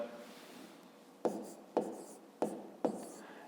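Pen writing numbers on paper at a desk, four short scratchy strokes at even spacing after a quiet stretch, close and soft, with no voice.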